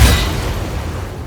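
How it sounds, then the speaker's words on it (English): Booming Blade spell striking in Baldur's Gate 3: a single loud, close boom with a short rumbling decay, alone. "Booming Blade."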